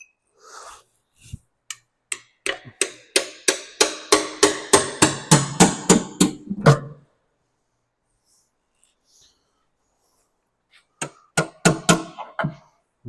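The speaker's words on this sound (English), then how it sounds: "a hammer and chisel again, or punch" Hammer striking a chisel or punch on the parts of a 1972 small-block Chevy 350 engine being torn down: a fast run of about twenty sharp metallic blows, a pause, then another short burst, close and loud.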